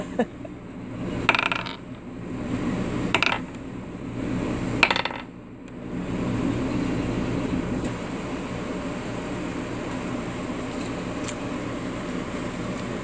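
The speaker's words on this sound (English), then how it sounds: "I'm just messing around with a dice and chilling out." Dice rattle and clatter in short bursts, several distinct rolls in the first half over a steady background hum, then the hum continues alone with faint clicks.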